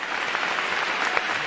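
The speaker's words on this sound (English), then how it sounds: "Give a round of applause and let me welcome you to the stage." A live audience at a stage event applauds, a brief dense burst of crowd clapping that stays steady and full for the whole moment.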